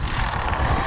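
Electric motor of a Traxxas XRT RC truck on Sledgehammer tires at full throttle, a loud steady high whine with a broad buzzing roar, close and continuous with no talking.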